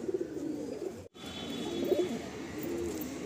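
A small group of five loft pigeons coo continuously in low murmuring bursts, close and steady, with a brief dropout partway through and no voices.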